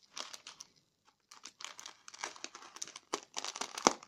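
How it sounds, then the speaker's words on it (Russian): A parcel is opened, the plastic packaging crinkling and crunching in bursts with small sharp pops of bubble wrap, close and fairly quiet, with no talking. "Ну, начали лопаться пузырики там в вакуумной упаковке."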